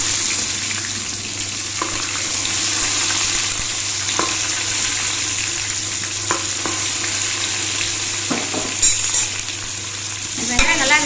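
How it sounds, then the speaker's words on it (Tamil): Onions sauté in a pan with fenugreek, cumin and curry leaves, a constant bright sizzle running throughout with occasional scraping stirs and clinks near the end. "வெங்காயம் சேர்த்துக்கிறேன்."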